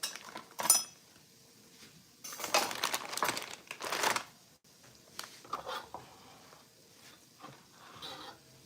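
A knife cuts through a hot naan bread hamburger, giving close crunching, crinkling bursts and light clinks of cutlery on a plate, coming in uneven clusters.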